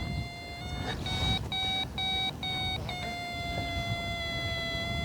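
A glider's variometer beeps in short, evenly spaced pulses, then shifts to a steady high tone, all over constant wind and airframe rush.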